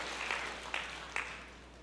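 A church congregation applauding during a sermon, heard as a faint, distant wash of clapping with a few sharper claps standing out.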